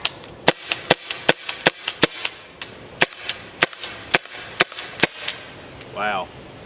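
Sharp pops of a Byrna HD CO2 launcher firing practice rounds at an outdoor range, about fifteen crisp, close shots in quick irregular bursts, with a brief voice near the end.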